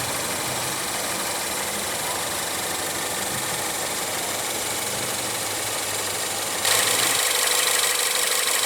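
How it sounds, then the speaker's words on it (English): Optional 2.0-litre turbocharged inline four-cylinder of a 2016 Ford Fusion idling steadily with a constant broadband hum, close to the engine bay, and a brighter hiss joining toward the end. "we have the optional 2-liter inline turbo 4-cylinder"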